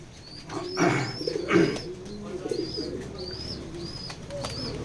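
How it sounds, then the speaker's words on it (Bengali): A pair of light-coloured pigeons coo close by in soft, repeated throaty calls, with a few rustles and faint chirps, no voices. "এবং সুন্দর এক জোড়া কবুতর"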